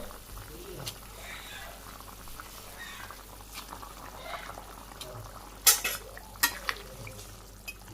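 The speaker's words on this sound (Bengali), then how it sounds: "তরকারিটা বলক এসে গেছে মাছগুলো দিয়ে দিন" A fish curry with olives comes to a boil in a pot, giving a low, steady bubbling hiss with a few sharp clinks of a utensil near the end, close up, and a voice speaking over it at times.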